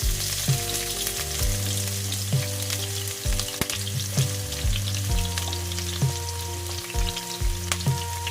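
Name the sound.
garlic frying in a pan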